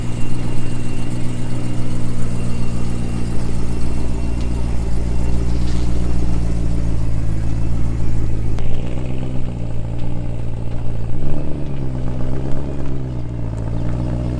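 A BMW E92 M3 V8 fitted with a 1.75-inch pipe exhaust mod idles and blips close by, a loud steady burble with a few rising revs toward the end.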